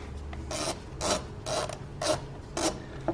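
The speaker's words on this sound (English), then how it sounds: "by loosening this nut, and that's a number 10 millimeter" A ratchet loosens the 10 mm battery cable nut on a 2013–2019 Nissan Sentra, giving five evenly spaced clicking bursts about half a second apart, close and fairly loud with no talking.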